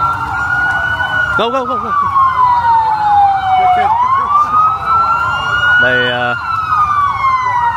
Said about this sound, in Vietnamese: mình xa xa mình thấy đoàn xe đi từ hướng đường trên kia đi xuống rồi